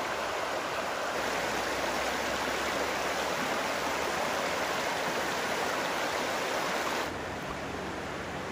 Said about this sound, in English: Here we are at the intersection of the main river and a smaller creek or tributary.